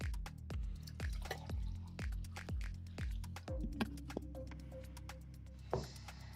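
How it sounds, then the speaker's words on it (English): Water drips and trickles into a container in a quiet room, a rapid series of small close taps that slows and settles into a faint pour and splash near the end. "Okay, let me quickly get some water."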